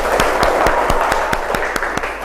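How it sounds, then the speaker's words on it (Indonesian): A classroom of students claps together in a steady, evenly spaced rhythm, about ten sharp unison claps over a wash of room noise, with no speech. "Tepuk tangan untuk kita semua."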